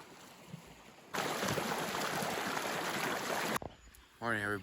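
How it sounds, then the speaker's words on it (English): Steady broadband rush of stream water flowing beside a campsite in the Black Hills, loud and continuous for a few seconds before cutting out, with quiet surroundings and a brief voice at the end. "the noise of the water here, which is quite relaxing"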